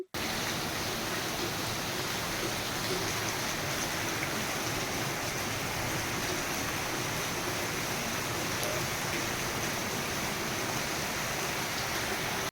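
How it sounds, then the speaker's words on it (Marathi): Heavy monsoon rain pours down steadily in the Konkan countryside, a dense, unbroken hiss holding at full strength from start to finish with no voices over it. "पाऊस एकदम सुसाट पडतोय"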